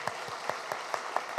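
Clapping from a church congregation at a graduation service for a one-year discipleship training course comes as a brief run of evenly spaced, distinct claps at a moderate distance.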